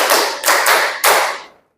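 A classroom of students claps hands together in counted rhythm during a biology lesson: three sharp, loud bursts of clapping, close and unaccompanied by talk.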